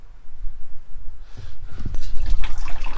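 Water running by gravity from a campervan tank with no pump, a soft trickle that swells into a steady, louder flow and splash partway through, close by with no talk.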